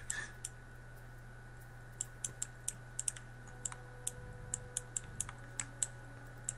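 Frantic clicking during a Red Alert 3 naval battle, a quick irregular run of sharp, close clicks and taps over a low steady hum, with no voices.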